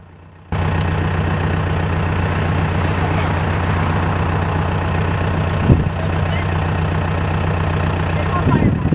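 A tractor engine idles in a steady, loud low rumble beside a hay baler that has caught fire on a farm, starting abruptly after a brief quiet moment and running continuously.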